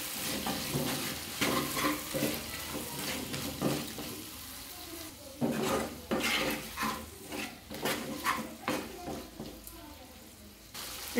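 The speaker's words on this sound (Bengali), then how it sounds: "এগুলোর মধ্যে দিয়ে দেবো হলুদ গুঁড়ো, দিয়ে দেবো লবণ, ভালো করে নাড়িয়ে দেবো।" Pointed gourd with prawns being stirred in a pan with turmeric and salt, with repeated scraping strokes of a spoon over a continuous sizzle, close and fairly loud.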